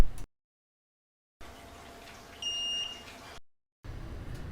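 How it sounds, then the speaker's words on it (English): A Chefman 1.8L digital kettle gives a single short, clear electronic beep when ready, a thin steady tone lasting about half a second between stretches of silence and faint background noise. "When it's ready, it'll beep."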